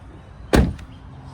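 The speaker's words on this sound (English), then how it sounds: "But let's open the frunk." Front trunk of a 2025 Tesla Model S popping open, a single sharp thud with a short tail and a faint click just after, close and alone.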